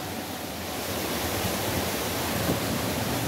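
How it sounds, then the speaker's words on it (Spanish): A waterfall's main jet pouring down on a hike in Santander, Colombia, heard up close as a steady, loud broadband rush of falling water that stays unbroken for the whole stretch, with no voices. "o la cascada."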